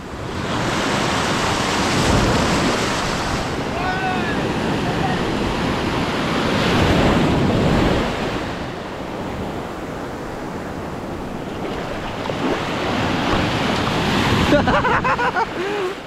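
Strong ocean waves breaking on a beach, a loud continuous roar of surf with surges of crashing water and wind buffeting the camera, while people chat faintly in the background.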